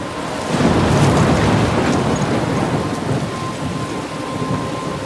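A steady, loud thunderstorm in the video game Life is Strange, with dense rain hiss and rolling thunder filling the whole stretch, no voices.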